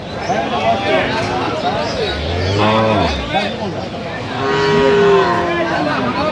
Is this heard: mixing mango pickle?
no